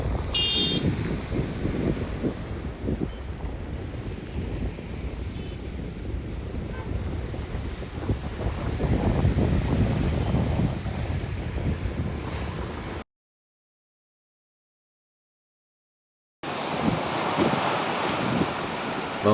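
Strong wind and rough sea waves off a fishing coast, a continuous loud roar of surf and gusts buffeting the microphone, alone with no talk, cutting to silence briefly before resuming.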